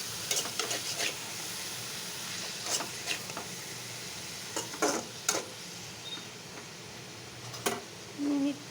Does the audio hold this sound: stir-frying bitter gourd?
yes